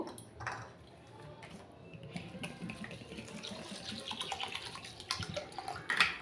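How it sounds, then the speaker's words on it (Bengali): Large-grain sago pearls rinsed under running water in a sink, with a steady tap flow, splashing and swishing, a few light pings of grains and bowl, close by and moderately loud. "এই সাবুগুলোকে আমি প্রথমে জল দিয়ে ধুয়ে নেব"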